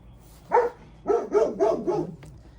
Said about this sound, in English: That's my dog doing her job.